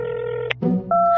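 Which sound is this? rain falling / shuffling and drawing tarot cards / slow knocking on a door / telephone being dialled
telephone being dialled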